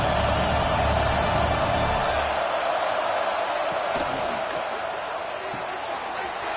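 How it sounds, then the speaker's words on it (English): Home crowd roaring at a college football game against ISU, a dense, steady wash of cheering and noise that stays loud and close for the whole stretch, with no clear speech on top. "this home crowd is fired up and ready to make a difference today"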